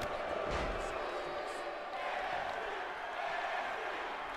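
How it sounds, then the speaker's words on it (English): Arena crowd roaring and cheering at a WWE 2K18 NXT wrestling match at Full Sail University, a steady dense wall of noise with faint thuds and no clear voices in the foreground. "Crowd going crazy here at Full Sail University."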